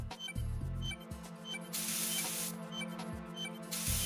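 Coolant spray hisses in Metal Gear Solid 2 as a character holds the can, with two long bright bursts of spray over steady game background sound and small clicks.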